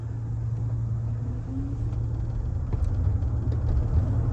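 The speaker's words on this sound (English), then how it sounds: "it really uses a lot of electric power before the combustion engine kicks on" Inside a Waymo autonomous taxi with a combustion engine on the road, a steady low rumble runs continuously at moderate level with no voices.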